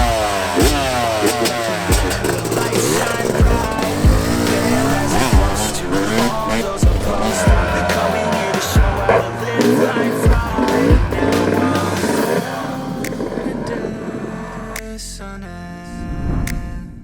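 Yamaha YZ 250 motorcycle engine running while ridden, a loud, continuous close-up roar with rising and falling revs and rattling mechanical texture throughout.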